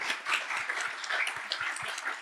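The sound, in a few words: audience applause for interviewee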